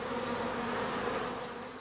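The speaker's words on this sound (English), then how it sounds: "This hive, it's full. Lots of bees in this hive." Honeybees buzz in a steady, dense drone over a full hive opened in a front-yard apiary, heard close with no voices over it.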